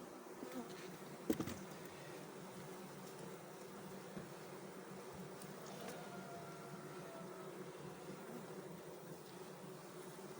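A honey bee colony in a horizontal lounger hive hums with a dense, continuous close buzz, steady throughout with a brief knock near the start.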